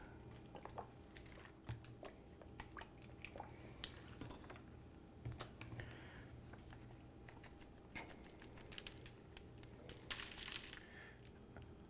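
Wet, soft slapping and squishing of beef broth being slathered by hand over a spice-rubbed prime rib roast, close and quiet, with light clinks and pats scattered through.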